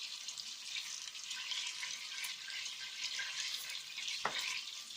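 Pork sizzles steadily in a hot frying pan, a dense crackling hiss throughout, with one sharper pop near the end.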